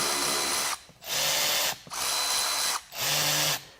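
A Milwaukee 2557 M12 FUEL 3/8-inch cordless ratchet spins in three loud, close bursts of under a second each, separated by short gaps, with a steady high-pitched motor whine and no talking.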